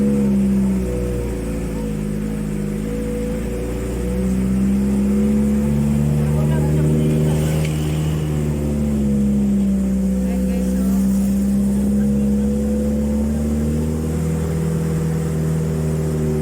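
Car engine labouring up a very steep mountain road in Antipolo, a steady low drone with pitch rising and falling, close and loud throughout, with voices talking over it.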